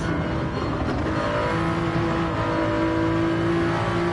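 A Toyota Supra's engine in the racing game Gran Turismo 7, a steady sustained drone holding near-constant revs through a chicane, with no voices over it.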